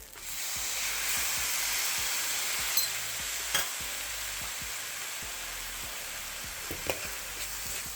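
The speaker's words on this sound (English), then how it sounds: "now's about the time that I like to add the sauce evenly" Sauce poured over halibut fish fried rice in a hot pan, a steady smoky sizzle and hiss with a few sharp clicks and scrapes of stirring, moderately close and without speech.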